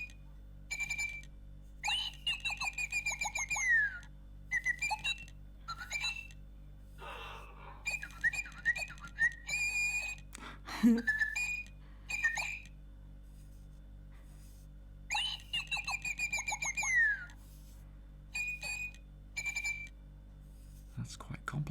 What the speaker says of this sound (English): That's quite complex tweeting